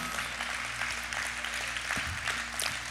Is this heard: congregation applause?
yes